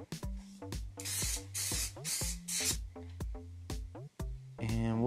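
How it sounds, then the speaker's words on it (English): Several short bursts of spray adhesive hissing from an aerosol can onto the back of a paper print, broken up by clicks and knocks, close by and fairly quiet. "Just gonna spray some spray adhesive on the back of the print here"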